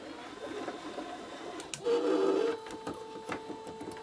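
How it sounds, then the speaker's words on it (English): A small motor drives a model elevator shaft, giving a quiet whirring hum with a brief louder buzzing stretch near the middle and a few faint clicks and rattles, with no talk. "So we've got it set up on a motor so we can stop it, we can slow it down, we can reverse it."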